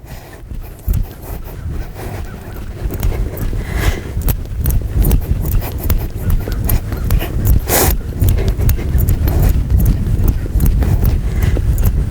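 Horse hooves strike in a steady two-beat trot under a rider, close and fairly loud, with a regular rhythm and some creak of tack.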